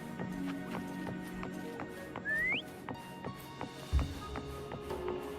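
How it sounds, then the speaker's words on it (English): In the Wuthering Waves video game, a player character whistles to call a mount: one short rising whistle over a game soundscape of light rhythmic taps and hooflike clops, followed by a soft thud. "Try whistling"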